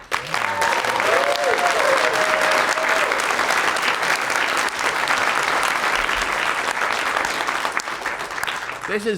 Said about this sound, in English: Round of applause for you guys yourself, right?